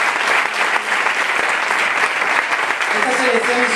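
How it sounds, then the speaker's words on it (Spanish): Audience applause at a Spanish political party's end-of-campaign rally, a dense, steady roar of many hands clapping for the whole stretch, with a voice starting to speak faintly beneath it near the end. "yo os pido primero un aplauso para los compañeros de Asturias"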